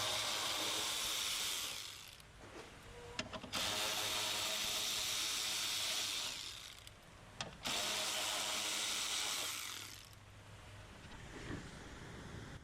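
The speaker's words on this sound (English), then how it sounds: "my battery powered ratchet and a 10mm socket" A battery-powered ratchet with a 10mm socket spins out bolts from a 2016 Hyundai Veloster Turbo front bumper, three long whirring bursts separated by short pauses and clicks, close and steady.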